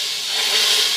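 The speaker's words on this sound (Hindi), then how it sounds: "तो तैयार है तकरीबन तड़का, अब हम लगाएंगे इसको" Hot ghee tadka poured over cooked dal sizzles with a bright, high hiss that swells slightly and holds for a second, close by and with no talk.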